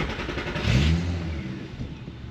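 A Volkswagen Corrado VR6, stock at 190 horsepower, gives one short, throaty rev blip over a low, muffled idle, then settles back to a steady rumble.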